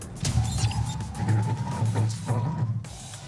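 A Volvo EX30 Twin Ultra 2025 brakes hard from 100 km/h, its tires squealing in wavering tones over road and tire noise for about three seconds.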